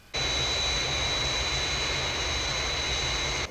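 A Fireflash airliner's jet engines roar steadily on landing approach, a loud, even whine and rush starting abruptly and holding for a few seconds before cutting off.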